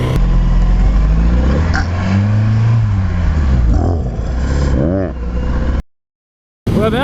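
A 2017 Honda CBR 1000rr motorcycle engine revs on the throttle, rising and falling loudly close by over several seconds, mixed with speech, before a brief dropout and a final burst.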